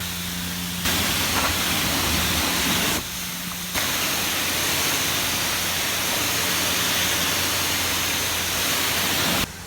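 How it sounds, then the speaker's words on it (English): A pressure washer wand rinses a car at a coin-operated self car wash in Seogwipo, Korea, giving a loud, continuous hissing spray that cuts out briefly twice before resuming, with no talk. "we're going to quickly rinse it off"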